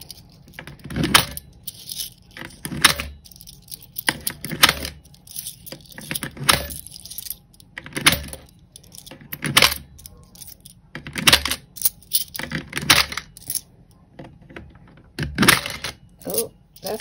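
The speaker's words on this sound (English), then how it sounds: "Those dollar coins are hard to go in." Handfuls of loose change, including dollar coins, clink and rattle as they are pushed into a coin jar in repeated irregular bursts, close and fairly loud, with quiet gaps between.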